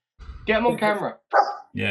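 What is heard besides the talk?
dog barking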